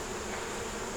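Honey bees hum around a backyard beehive holding brood and larvae, a close, continuous buzzing drone that stays steady for the full second with no talk.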